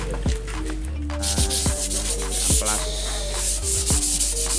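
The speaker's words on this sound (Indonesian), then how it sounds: "Amplas manual, nggak perlu mesin." Rhythmic scratchy rubbing of fine sandpaper on furniture wood by hand, repeated strokes at close range, with some faint tonal background noise.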